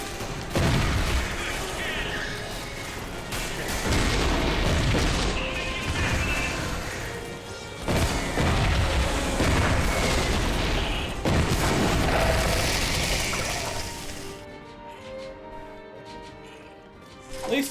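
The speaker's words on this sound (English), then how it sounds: "Oh man, the freaking frost missiles." Frost missiles bursting in Too Human, a run of loud booming crashes and smashes over dense game noise, with a quieter ringing tail near the end.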